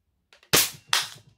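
Two sharp, loud shots from a Mossberg 500 airsoft shotgun, fired in quick succession about half a second apart, each with a brief snappy decay.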